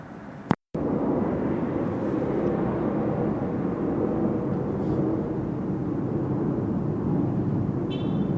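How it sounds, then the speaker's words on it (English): An airplane flying overhead makes a steady, broad rumbling roar that holds evenly after a brief sharp click near the start, with no speech. "You can hear that plane activity."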